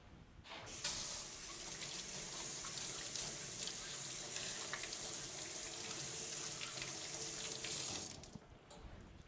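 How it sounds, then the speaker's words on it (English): Water runs steadily from a tap into a sink as hands are rinsed in a taxidermy workshop, a close continuous hiss that cuts off near the end, with no talk. "I'm going to rinse my hands off."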